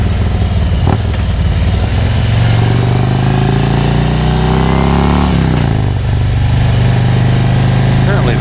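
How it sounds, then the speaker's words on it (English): Motorcycle fitted with an S&S 465 cam and aftermarket exhaust pipes rides through a corner in second gear, its loud engine rumbling steadily as revs climb, drop at a shift, then build again throughout. "I'm not sure if you can hear those pipes or not, but they actually sound pretty good."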